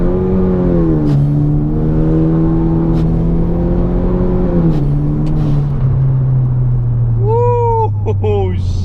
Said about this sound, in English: Full rip with the new exhaust.